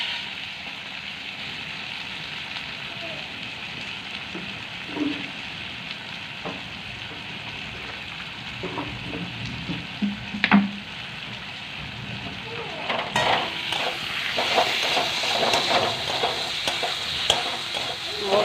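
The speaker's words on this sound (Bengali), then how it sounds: "মশলাটাকে ভালো করে নেড়ে চেড়ে একটু ভেজে নিচ্ছি" Spice paste fries in a pan while being stirred for a Bengali tangra fish curry, a soft sizzle with scattered spoon scrapes and knocks that swells louder near the end, with faint talk at times.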